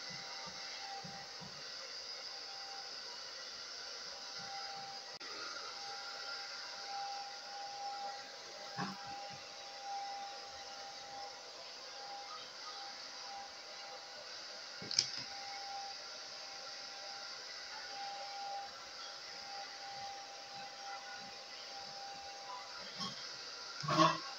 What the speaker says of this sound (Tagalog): tapos na tayo nag-blower sa ating hair